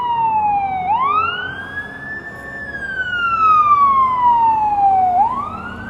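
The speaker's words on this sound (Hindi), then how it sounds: "हाँ फायर ट्रक है।" Fire truck siren on a Canadian street, sweeping up and down in long wailing cycles as the vehicle passes, loud and steady over traffic rumble.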